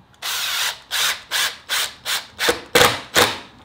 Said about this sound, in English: And we'll throw two more screws in the top.